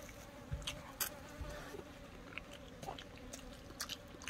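Flies hovering over a plate of grilled pogot fish and rice, with faint intermittent buzzing amid soft clicks and chewing-like noises close by.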